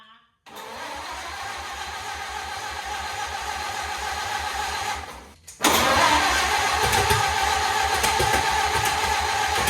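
A 1928 Ford Model A engine cranks with the choke closed, a steady mid-pitched mechanical churn that briefly drops out, then resumes louder and rougher for several seconds, heard close and without talk.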